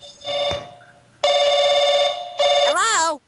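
A telephone rings in short bursts of bright electronic tone, close and loud, with a pause between rings and a warbling sweep at the end where a voice seems to join in.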